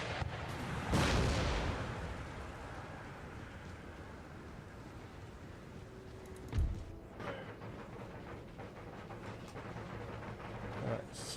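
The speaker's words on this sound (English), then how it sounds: "let's see what damage we can do with the cannon" Cannon fire in a large Empire: Total War battle: a heavy deep boom early on and another sharp blast later, over a constant low rumble of distant battle noise.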